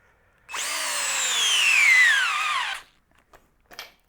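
Harbor Freight Hercules cordless drill on speed 1 driving a torque adapter, a steady whine rising then slowly dropping in pitch as it loads up for about two seconds, then stopping, followed by a few faint clicks.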